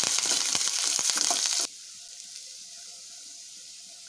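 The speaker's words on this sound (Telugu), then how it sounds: "తర్వాత పచ్చిమిర్చి, కరివేపాకు వేసుకొని ఫ్రై చేసుకోవాలి." Green chillies and curry leaves dropped into hot oil for a spicy poha mixture, a loud dense sizzle for about a second and a half that then cuts off abruptly, leaving only a low faint hiss.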